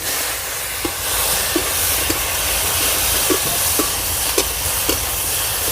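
Ridge gourd hits hot oil left over from frying bhola fish, with whole cumin, and sets off a loud, steady broadband sizzle with faint scattered pops throughout, no talk.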